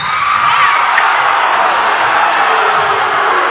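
A packed high school basketball gym crowd lets out a loud, sustained collective groan and murmur of disapproval, a steady wash of voices with no single speaker standing out.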